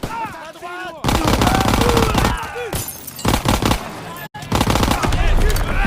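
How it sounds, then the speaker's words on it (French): Machine gun covering fire in Call of Duty WW2 hammers in long, loud, dense bursts with brief breaks, while shouted voices come through over the battle. "Ils me font un tir de couverture sur la gauche."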